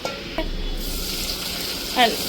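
Chicken sizzles in a hot frying pan while being stirred, with a steady loud frying hiss, a soft clink early on and a brief scrape near the end, up close and without speech.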